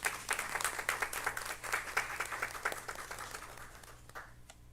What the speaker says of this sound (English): And I think they definitely deserve a round of applause.